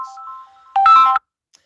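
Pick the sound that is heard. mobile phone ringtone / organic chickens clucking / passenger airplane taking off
mobile phone ringtone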